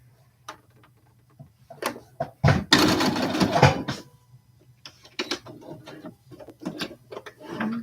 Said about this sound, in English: So we're just doing the same thing on the other side, top stitching the two edges of this front facing.